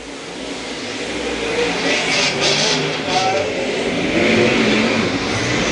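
Modified dirt-track race cars roar around the oval during a Saturday night A Mod heat, engines droning loudly and steadily with rising and falling revs, under a race announcer's voice.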